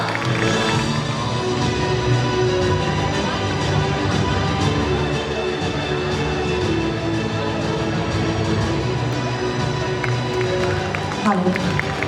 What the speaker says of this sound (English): Please have a huge round of applause for her.